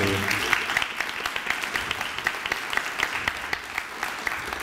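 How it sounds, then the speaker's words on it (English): Applause for the mayor at a community wealth building launch in Richmond, a steady patter of many hands clapping throughout, fairly close and sustained without a break. "Let's give our fine mayor another round of applause."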